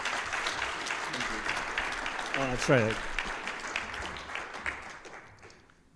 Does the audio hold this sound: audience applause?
yes